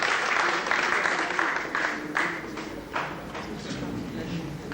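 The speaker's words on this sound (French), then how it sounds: "ainsi que Michel Jarry, que vous pouvez également applaudir très fort" A crowd claps and applauds steadily, with bursts of louder clapping rising and fading across the room.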